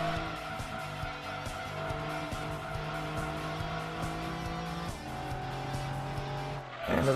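Dodge Viper racing around Laguna Seca in Gran Turismo 2, its engine droning steadily at high revs with shifting pitch and tire squeal, running continuously and close before a brief drop near the end.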